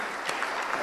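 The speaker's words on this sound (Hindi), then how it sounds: "तालियां बजा के मुन्नी भाई जी का स्वागत" Audience applause welcomes an honoree at a women's awareness honour ceremony in Bhopal, a brief burst of steady, close clapping filling the whole moment.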